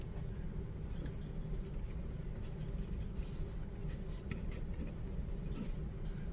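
A pen tool scratching across paper in steady strokes, close and fairly quiet over a low background hum.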